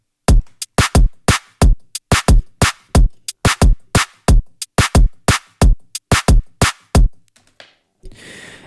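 A moombahton drum beat at 100 BPM knocks out sharp, punchy hits in a steady groove, with the second clap shifted a half step off its usual spot, playing alone and ending abruptly.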